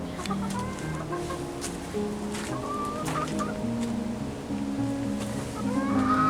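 Several chickens cluck and murmur continuously nearby, overlapping calls in a busy, steady chorus with no talking.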